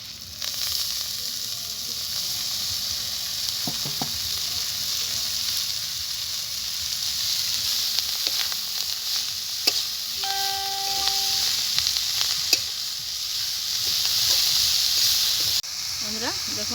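Chopped beto greens dropped into hot oil with fried onion and green chili, a steady close sizzle and hiss throughout with occasional stirring clinks.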